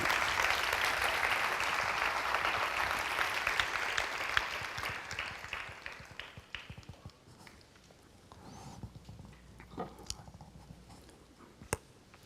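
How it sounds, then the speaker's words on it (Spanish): Church congregation applauding during a Wednesday worship service, a dense wash of clapping that is loudest at first and then thins out, with a few scattered claps trailing at the end. "Den un aplauso al Señor"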